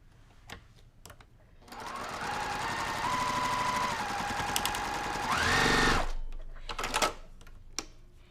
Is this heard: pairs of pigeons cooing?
no